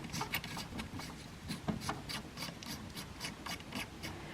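A Messi & Paoloni PL-259 compression plug on RG-58 coax is screwed onto a socket, making a steady run of soft, close scraping and rubbing strokes in an even rhythm.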